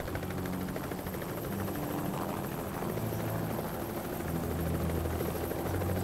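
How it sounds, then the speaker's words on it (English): A helicopter in the video game Project Zomboid makes a continuous, steady rotor drone with a rhythmic thudding pulse, moderately loud and unchanging throughout, with no talk over it. "Is that a helicopter crash or something?"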